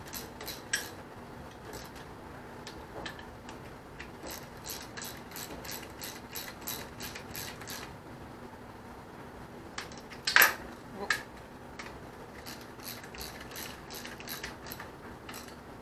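A ratchet snugs bolts while assembling a 1641 case, giving a steady run of light clicks with a few sharper metallic knocks midway, close and fairly quiet.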